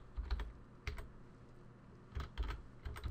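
Keystrokes on a computer keyboard while entering a new DWORD value in the Windows 10 registry: close, uneven bursts of clicking taps separated by short pauses, with no talking.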